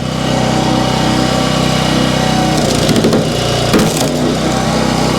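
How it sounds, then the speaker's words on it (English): A Split Force 9 towable vertical log splitter forces its way through an oak knot, its small engine droning steadily and close, with sharp cracking and splintering bursts of wood near the end. "for this little splitter going through a oak knot like that,"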